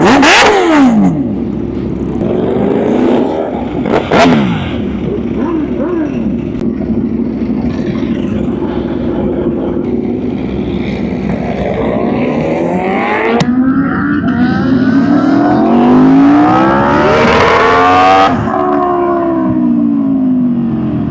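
Kawasaki H2R and V4R motorcycles rev hard and pull out, loud and close, with engine pitch rising and falling through repeated throttle sweeps.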